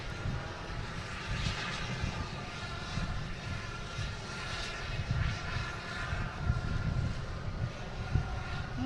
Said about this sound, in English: We have American Airlines coming from Philly, a Philly special, over Castle Island. A319, flight 834.